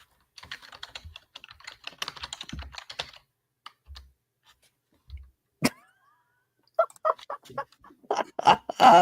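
Fingers tap a computer keyboard in quick irregular bursts of clicks, close by and fairly quiet, with pauses between runs and a few sharper key strikes near the end.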